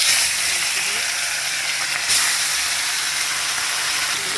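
Steady hissing sizzle of fish frying in hot oil in a kadai, fairly loud and continuous with a slight swell midway.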